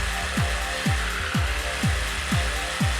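A power tool cuts a rectangular hole in a wall for a windowless air conditioner, a steady harsh buzzing with regular low thumps roughly every half second, close and loud.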